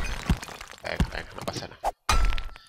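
Pickaxe mining in 7 Days to Die: a handful of sharp, thunking strikes land about half a second apart, close and fairly loud, with someone talking casually between them.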